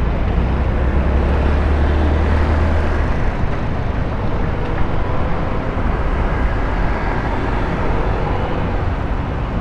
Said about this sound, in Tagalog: Eh, boring yung makina niya.